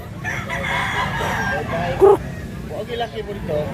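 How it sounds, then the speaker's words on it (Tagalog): A three-year-old rooster crows once amid a noisy outdoor background in Mantalungon, Cebu, with other faint fowl sounds and people talking nearby. "Gandang manok."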